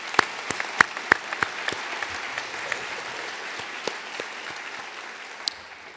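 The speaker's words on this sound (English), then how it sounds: "So let's give them a round of applause." Audience applause at a medical school white coat ceremony, steady clapping from a large crowd that holds for several seconds and slowly tapers, with a few louder claps standing out near the start.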